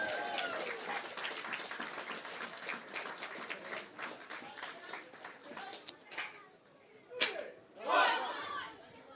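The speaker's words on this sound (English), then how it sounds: "a round of applause for the Greystones School of Taekwondo" A crowd at a St. Patrick's Day event claps and cheers steadily for a taekwondo school display, with scattered whoops and voices rising near the end as the applause swells.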